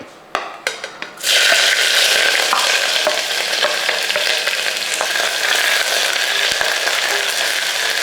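Crushed ginger, garlic and green chilies dropped into hot masala in a pan, a few soft clicks and then a sudden loud sizzle that keeps frying steadily, with faint stirring scrapes, and no talking.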